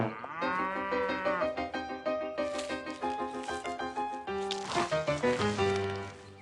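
A cartoon cow mooing, heard as a long, loud, drawn-out moo set against bouncy orchestral music with short rhythmic accents, with no speech.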